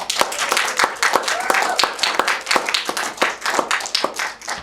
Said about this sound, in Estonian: teeme suure aplausi Teoteatrile